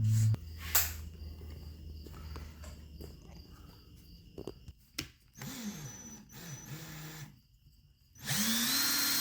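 A rag clamped in a drill chuck spins inside an Elsinore fuel valve to clean it, the motor whirring up and winding down in several short bursts with quiet pauses and a final loud spin.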